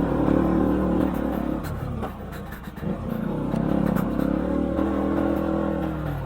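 A motorcycle rides over a bumpy, partly paved rural road at low speed, its engine droning steadily throughout with rattling and clatter from the rough surface and a brief dip in loudness midway.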